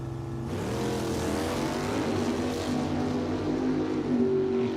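Drag racing cars at a drag strip, the Hellraiser 2 Nova against a 1969 Camaro, loud sustained engine roar with rising revving tones that climb through the run, no talk over it.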